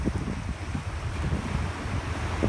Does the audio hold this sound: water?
yes